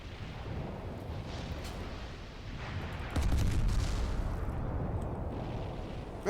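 Naval ship guns fire in Steel Ocean, a heavy booming salvo that rolls in midway and sustains a deep rumble, following a low, steady background drone.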